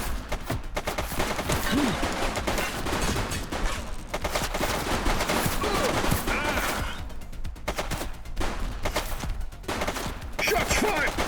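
Sustained gunfire in The Precinct, a police video game, bursts and volleys crackling continuously at close range for about eleven seconds, with brief lulls and some voice mixed underneath.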